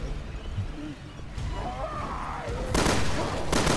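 Two heavy double-barrel shotgun blasts boom in quick succession near the end of Resident Evil Revelations 2 gameplay, following a stretch of low rumbling game ambience.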